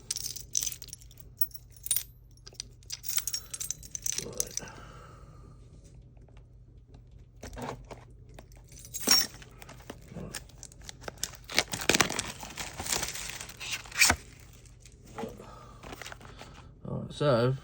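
Cardboard packaging and foil booster packs from a Pokémon card box being torn and handled up close, crinkly rustles and sharp rips scattered through the clip with some quieter pauses.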